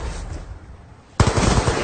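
Gunfire in Call of Duty: Black Ops 2 during a Hardpoint match: after a second of low ambient game noise, a loud, close burst of rapid automatic shots suddenly erupts and keeps going.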